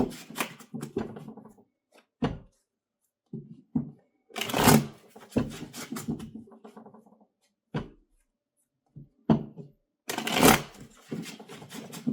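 Tarot cards shuffled by hand in short irregular bursts, riffles and slaps separated by pauses, close and clear with no talking.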